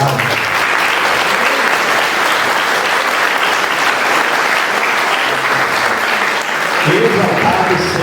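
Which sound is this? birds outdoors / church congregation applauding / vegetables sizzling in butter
church congregation applauding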